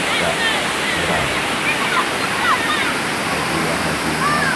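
Two small waterfalls, each about two meters high, at the Saweuk bathing site in Aceh rush with a constant dense roar. Faint birdsong sounds over the water.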